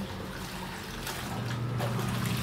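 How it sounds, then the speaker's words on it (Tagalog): Soapy wash water and suds trickle and drain out of a bucket or basin during hand laundry, a soft, steady running flow that swells slightly toward the end. "para umagos yung tubig, yung bula"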